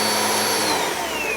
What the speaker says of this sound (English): vacuum is very loud